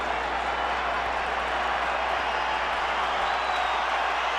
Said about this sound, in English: Crowd comes alive here.